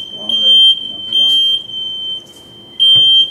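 Smoke detectors in a house sound a loud, piercing electronic tone in repeated bursts of about half a second each, while people talk nearby.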